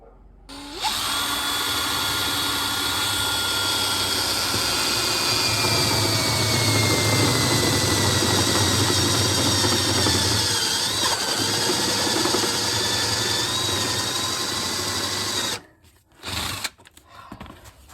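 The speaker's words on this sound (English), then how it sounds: "Let's drill a hole." A power drill bores through sheet metal into wood, whining loudly and steadily at close range for about fifteen seconds. It stops, then gives a couple of short bursts, with the pitch shifting slightly as it works.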